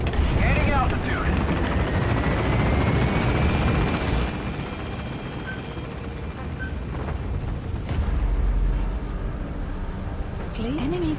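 A helicopter gaining altitude in Metal Gear Solid V throbs with a loud, continuous rotor-and-engine rumble throughout. The level dips and swells slightly, and faint game tones and voice fragments sit underneath.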